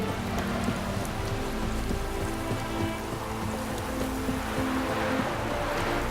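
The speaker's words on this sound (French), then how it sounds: "La pluie ne vous dérange pas, on dirait." Steady rain in The Witcher 3 video game, a dense, even hiss of falling drops with faint low rumble beneath, continuous and unbroken.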